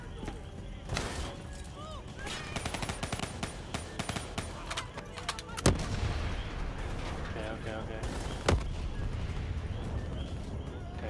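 Machine gun fire and other gunshots in Call of Duty Black Ops 3 come as dense rapid bursts, with sharp louder cracks around the middle and near the end, under ongoing game noise and chatter.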